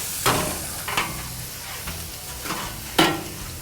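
Oil sizzles softly on a hot Blackstone flat-top griddle while a cutting board and utensils tap and scrape nearby in a few brief close knocks, with a steady faint frying hiss underneath.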